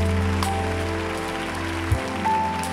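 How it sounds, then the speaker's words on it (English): An audience claps along at a lively gospel church service, with steady broadband applause layered under sustained organ-like music tones throughout. "Clap your hand, clap your hand."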